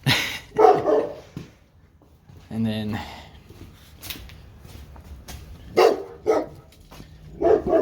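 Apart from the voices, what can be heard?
neighbor's dog barking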